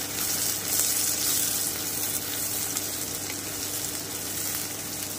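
Sliced onions sizzle in hot oil over high heat while being fried into crisp birista, a steady close crackling hiss with no talking.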